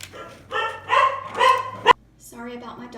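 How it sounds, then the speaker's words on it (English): Several sharp dog barks ring out close by in quick succession, followed by a higher whining yelp. "Sorry about my dogs barking."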